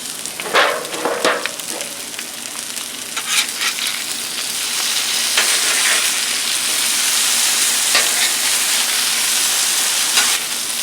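Potatoes fry on a hot Blackstone griddle with a loud, continuous sizzle and crackle, bursts of spattering popping over a steady hiss that swells slightly partway through, with no talking.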